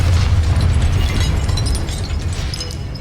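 The Confringo blasting spell goes off in Hogwarts Legacy as a loud, sustained explosive roar with deep rumble and crackling debris that slowly fades over a few seconds.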